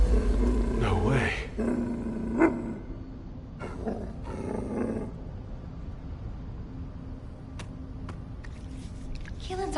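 A dog creature growls and roars in The First Descendant, a low, rough, sustained snarl with a few louder surges in the first half, set against a steady game ambience with speech-like voice tones mixed in.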